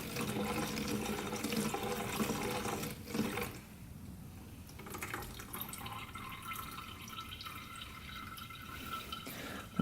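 Fluid draining out of a 500cc Yamaha Banshee quad, a steady trickling and splashing stream that runs close and moderately quiet through the whole stretch, with no talking over it.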